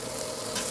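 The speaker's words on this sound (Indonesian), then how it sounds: "Dengan wajan yang sama saya akan tumis bawang sedikit." Onion sautés in a little oil in a wok, sizzling steadily at close range with a soft scraping stir, quiet and without talk.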